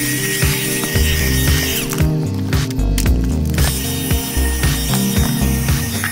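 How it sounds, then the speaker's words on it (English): A vacuum cleaner runs steadily inside a car, cleaning the interior, with a constant loud motor drone and repeated low thumps and scraping as the nozzle knocks against seats and trim. "almost done with vacuuming."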